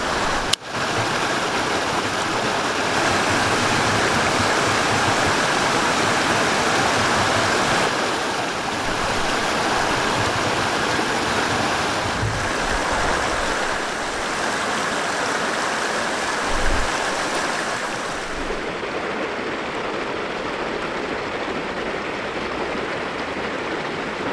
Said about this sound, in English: I've got a little river right here.